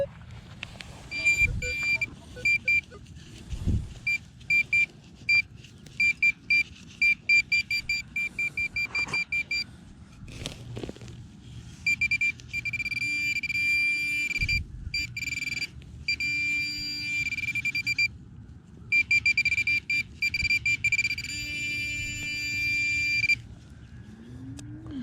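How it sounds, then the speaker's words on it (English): Minelab Equinox 800 metal detector sweeping over buried targets in a field littered with scrap cans, emitting repeated electronic tones, short bursts and longer sustained beeps, with a grunt-like low tone and brief pauses between sweeps. "Double beeping 13 with a little bit of a grunt off the left of it."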